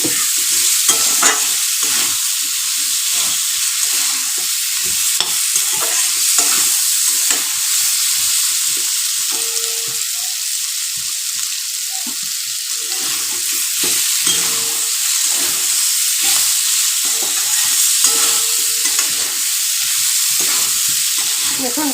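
Potatoes frying in a pan with steady sizzling and repeated scraping strokes as they are stirred, close and continuous throughout without any talk.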